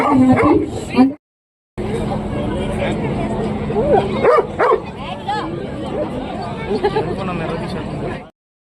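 Several dogs bark and yip at a dog show in Eluru, with sharp, repeated barks and whimpers scattered over a constant crowd babble and people talking nearby.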